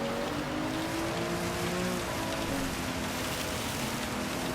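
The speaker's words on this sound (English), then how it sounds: "The rain's still hammering down" Heavy rain hammers down during a wet race at Tsukuba in the video game Gran Turismo 7, a dense constant hiss of rainfall layered with the steady drone of an Alfa Romeo 155 race car engine.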